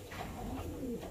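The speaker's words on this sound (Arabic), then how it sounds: "شوفوا لي الحمام كيف دايره الاخوان" Pigeons at a loft coo in low, soft throaty phrases, several overlapping calls repeating steadily at close range over a faint background hiss, with no talking.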